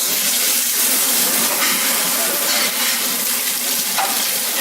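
A snapper fillet sears in salad oil in a hot pan, giving a loud, continuous close-up sizzle with a faint hiss and occasional crackle.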